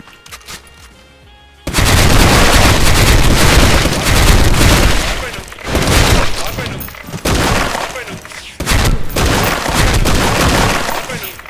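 Chrome rank rifle firing in Special Force 2, loud rapid bursts of gunfire in several long strings separated by short pauses, close and dominant after a quiet opening.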